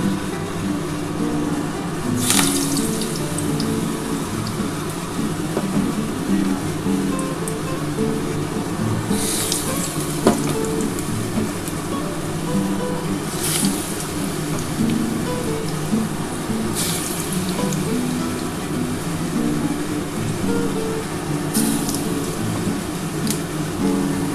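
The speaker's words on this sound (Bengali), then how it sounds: "এবার আমার তেলটা গরম হয়ে গেছে আমি বড়াগুলো ভেজে নিচ্ছি" Red lentil fritters (masoor dal bora) fry in hot oil with a steady, rain-like hiss that continues for a long stretch, broken by a few sharper crackles and pops.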